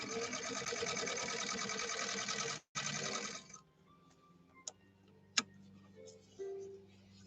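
A 1931 Singer 101-4 sewing machine stitching in a fast steady whir for about three seconds with one brief pause, then stopping into quiet clicks and light handling sounds.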